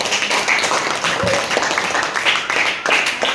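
Classroom of junior high students in Indonesia applauding a group's presentation, a dense, continuous patter of many hands filling the room, with a few voices mixed in.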